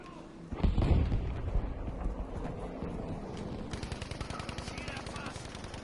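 Gunfire in the video game Battlefield V opens with a loud shot, then continues as rapid, rattling automatic fire that runs steadily to the end.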